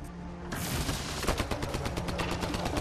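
Sustained heavy gunfire in a Mass Effect Andromeda firefight: dense, rapid automatic bursts that erupt loudly after a brief quieter lead-in and keep hammering steadily to the end.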